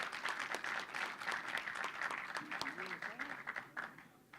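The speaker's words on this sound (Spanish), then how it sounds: "Un cálido aplauso de bienvenida para ellos." Steady audience applause at an investigative-journalism panel in Buenos Aires welcoming the panelists, a faint, continuous patter of many hands clapping with some voices mixed in.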